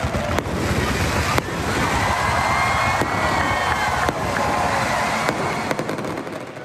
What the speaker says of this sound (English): there will be a fireworks show.